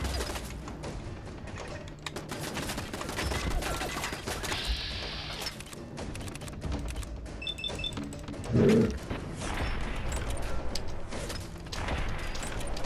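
Machine gun turrets firing in Fallout 4, with rapid clattering bursts of gunfire mixed with mechanical clanks and a brief thud amid ongoing game noise.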